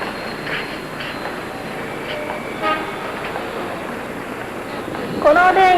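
A Japanese railway train from a 1951 spy film runs with a steady rumbling roar, brief horn toots cutting through, and a louder whistle-like blast near the end, while voices are faintly heard over the noise.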